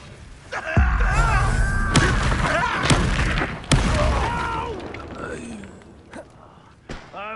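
Bombarda explosion spells in Hogwarts Legacy: several heavy booms with sharp cracks land in quick succession amid creaking, rumbling battle effects, while a voice shouts spell incantations over the loud, dense mix.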